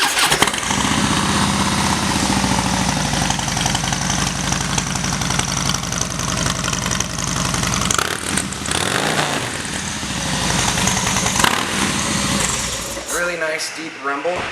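A 2013 Harley-Davidson Softail Slim 103 motorcycle at a dealership starts up and settles into a deep, loud, steady rumbling idle close by, with a voice talking over it.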